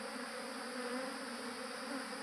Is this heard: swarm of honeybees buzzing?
yes